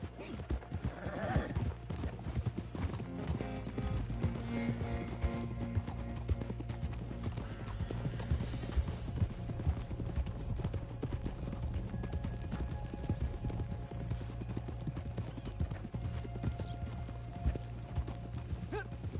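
Horse hooves clip-clop steadily in Red Dead Redemption 2 near manor stables, a continuous rhythmic trot close by with an occasional whinny, under game music and ambient sound.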